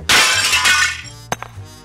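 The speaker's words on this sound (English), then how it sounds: "The hammer shatters the glass and falls to the street far below your penthouse office suite" A hammer breaks through a penthouse office window, a loud, close burst of shattering glass that crackles briefly, then a few small tinkling fragments fall.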